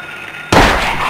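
After half a second of quiet, a loud sudden blast hits and decays into a rumbling noisy tail, a gunshot in Silent Hill on PlayStation.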